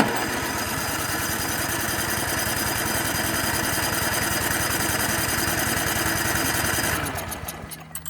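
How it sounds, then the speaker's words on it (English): Ariens snowblower engine cranking at full throttle while primed, a steady rapid mechanical churning loud and close for about seven seconds, then cutting off into a few faint clatters. "Oh yeah, the starter that doesn't like to engage."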